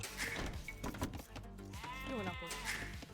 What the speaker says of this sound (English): And we found 2 more sheep, and our last and second boar.